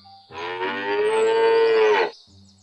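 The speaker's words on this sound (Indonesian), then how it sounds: "Wah, ini sapi." A cow moos once, a long, loud, sustained low call lasting about two seconds, close and clear with no talk over it.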